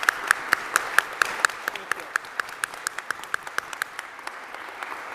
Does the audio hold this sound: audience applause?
yes